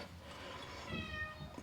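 A cat meows once or twice, a drawn-out, moderately close call in a garage where a 1965 Dodge Coronet 500's axle and springs are being rebuilt, heard over a steady background rumble.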